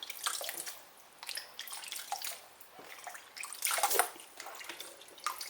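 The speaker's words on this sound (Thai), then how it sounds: "อันนี้เราก็ล้างแบบ ซาวๆมาเลยเนาะ" Black mushrooms are swished and rinsed by hand in a basin of water, giving bursts of splashing and sloshing that rise and fall irregularly, with a louder wash near the end and no talking.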